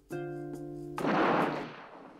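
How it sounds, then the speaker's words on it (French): A reconstructed shoe-bomb explosion set off on the ground as a test: a sudden, loud broadband blast that follows a steady tonal hum and decays over about half a second. "Les experts américains ont reconstitué au sol l'explosion des chaussures de Richard Reed."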